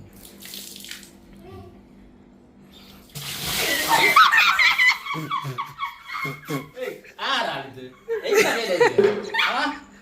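Water is poured and splashes onto a sleeping person's head in a home prank, a bright splashing burst breaking in after a quiet stretch, followed by excited voices talking and reacting.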